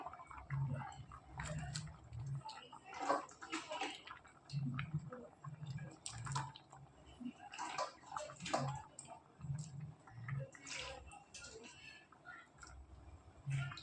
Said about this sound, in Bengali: এবার ভালো মতো ফুটে আসুক।